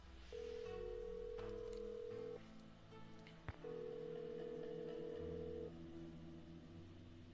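Telephone dialing in an old video game: two long steady electronic tones separated by a brief click, with lower buzzing synthetic tones underneath, fairly quiet and with no talk.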